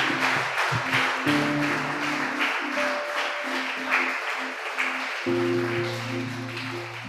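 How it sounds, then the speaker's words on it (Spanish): Applause from a church congregation, a broad steady wash of many hands clapping together throughout, with sustained organ or keyboard tones ringing beneath it and no speech over the top. "Bríndele un fuerte aplauso al Señor."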